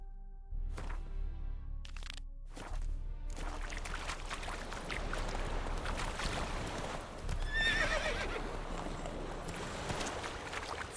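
Roach the horse galloping in The Witcher 3 video game: steady thudding hoofbeats with a whinny, a few sharp cracks early on, and a dense rumbling bed beneath.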